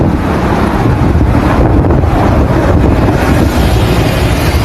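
Strong wind buffets the microphone outdoors in the open air after a church mass, making a loud continuous rumbling roar with no talking.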